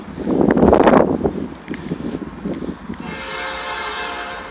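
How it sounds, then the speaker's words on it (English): Canadian National 5723 freight train, with a CSX unit trailing, passing through Effingham, Illinois: heavy close rumble and a horn blast early, then fading wheel noise with a faint high ringing tone. "I'll film a freight train."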